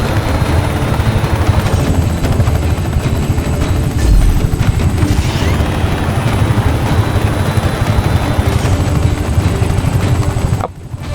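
Helicopter in the video game Just Cause 3, a loud continuous rotor and engine drone with steady chopping pulses, close and constant throughout with a brief drop at the end.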